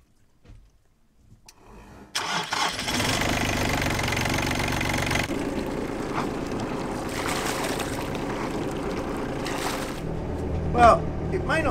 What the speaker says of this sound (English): Try starting the engine.